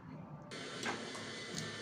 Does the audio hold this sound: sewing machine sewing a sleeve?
yes